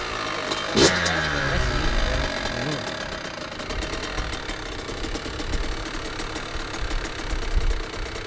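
A Kawasaki KX85 dirt bike engine running at a fast, steady idle, with a busy, rattling two-stroke buzz throughout and a brief sharp blip near the start, close by.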